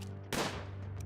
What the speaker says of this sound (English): That jerk's got a sniper freaking rifle.